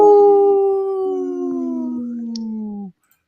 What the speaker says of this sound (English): Howling for Wolves, protecting wolves for future generations